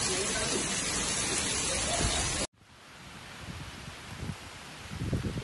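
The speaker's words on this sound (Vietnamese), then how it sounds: "hiện tại ở đây mưa vẫn rất lớn và gió vẫn giật mạnh" Heavy typhoon rain driven by strong gusting wind during Typhoon Noru on a city street in Tam Kỳ, Quảng Nam, a loud dense roar that cuts out abruptly, then returns as a quieter, steadier wash of rain with rising gusts.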